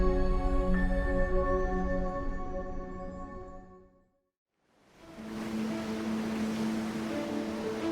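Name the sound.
3,000-ton ship Stril Explorer sailing through sea waves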